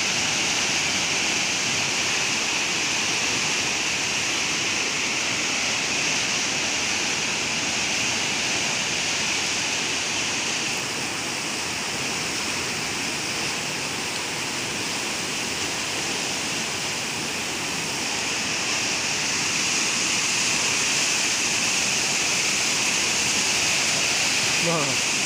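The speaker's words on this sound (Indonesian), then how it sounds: "pantauan airnya di bendungan Serepetan, mantap airnya." Water pours steadily over the Serepetan dam (Karacak dam), a loud, continuous rushing roar like a waterfall that holds constant throughout, with a voice speaking over the flow.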